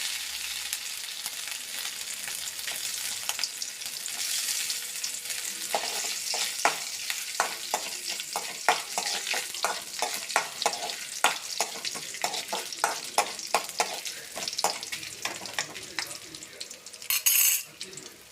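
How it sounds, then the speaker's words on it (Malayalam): Coconut pieces sauté with squid in a pan, giving a continuous sizzle broken by many rhythmic stirring scrapes and taps from a utensil, with a louder clatter near the end. "കണവ വേവുമ്പോൾ ഇതെല്ലാം സാധനങ്ങളും കൂടെ നല്ലപോലെ വഴട്ടി എടുക്കാം തേങ്ങാക്കൊത്തിടാം ആദ്യം"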